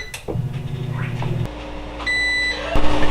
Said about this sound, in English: I'm going to get the air fryer going at 400.